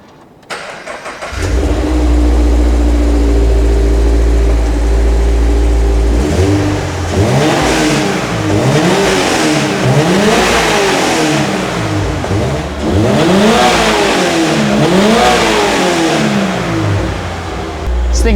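Toyota GR86 engine in track mode revving hard, starting with a low steady idle, then several loud rising and falling revs in repeated bursts, close and dominant throughout.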